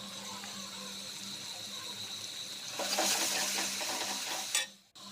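Egg curry masala with meat masala sizzling in a pan with stirring, the sizzle swelling louder midway before a brief clatter and a sudden drop.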